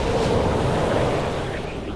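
Rushing, surging water like washing waves, a water spirit spell cast in World of Warcraft, a loud steady wash of noise that eases slightly toward the end, with no talk.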